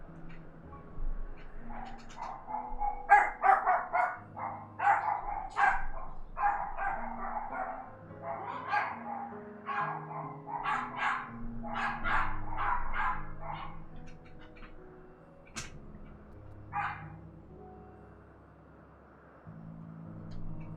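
Puppies in Final Fantasy XIV: Endwalker bark and yip in quick repeated bursts over about twenty seconds, the barks nearby and lively over quiet game music.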